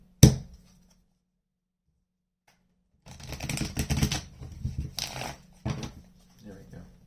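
Tarot cards being shuffled, a sharp tap followed by quiet, then several bursts of riffling and flicking card sounds in quick succession, close by.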